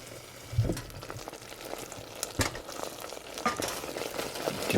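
Peanut brittle being stirred in a pan as it browns, with an irregular run of scraping and knocking strokes over a steady low bubbling, close and fairly quiet, with no voices.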